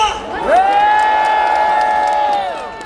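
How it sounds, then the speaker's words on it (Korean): A rally crowd at an outdoor political gathering on Yeouido Plaza on March 1 lets out a loud, sustained roar of cheering that swells quickly, holds steady for about two seconds, then tapers off. "우리의 함성이 들리십니까?"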